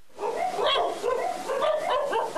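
Several dogs bark and yip in quick, overlapping bursts at a dog shelter owner's home on Grand Rapids' West Side, fairly close and continuous with no talking.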